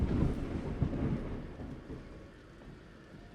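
During a storm, thunder rumbles low and deep, loudest at the start and then rolling off into a fading growl, with rain hissing underneath. No one speaks.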